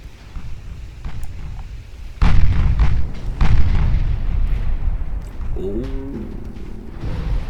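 Naval guns firing on a battleship in Ultimate Admiral Dreadnoughts: a couple of heavy booming blasts over a rumbling battle bed, with a faint tonal signal near the end.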